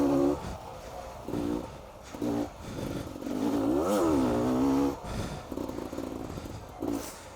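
A 2017 Beta 300 RR two-stroke dirt bike engine revs in short bursts, climbing and falling in pitch, with one longer rev in the middle, moderately close.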